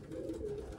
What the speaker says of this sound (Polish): Mamy gołębnik samiczek.